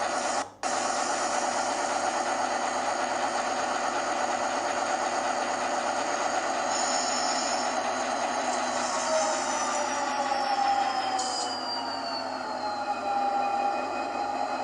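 An ESU LokSound 4.0 model locomotive sound decoder plays a diesel engine idling through an extended speaker, a steady humming throb with a brief click at the start and faint tonal shifts later on.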